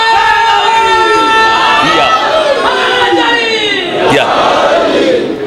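A large crowd at a Muharram majlis shouts a slogan in loud, ragged unison, voices rising and falling together in chanted bursts.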